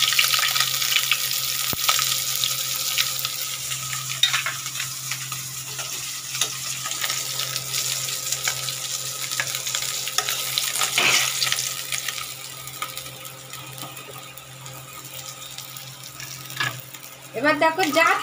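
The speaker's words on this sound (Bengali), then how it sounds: "মাছটা আমি ভেজে নিই বন্ধুরা।" Tilapia fish frying in hot oil gives a steady, bright sizzling hiss close by, with occasional clinks and scrapes in the pan and a brief louder rattle near the end.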